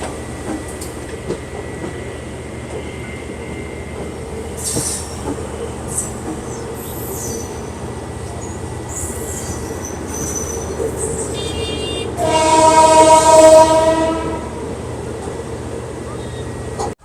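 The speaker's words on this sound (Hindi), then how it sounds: "अपनी इंटरनेशनल ट्रेन निकल चुकी है जनकपुर धाम रेलवे स्टेशन से" The Nepal-India international passenger train pulls out of Janakpur Dham railway station in Nepal with a continuous rolling rumble and wheel squeal. A loud, sustained horn-like blast rises near the end.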